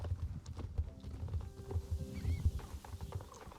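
Horse hooves clip-clop in a steady rhythm while riding in a video game about competition riding, moderately close and continuous, with faint background game sounds and no talking.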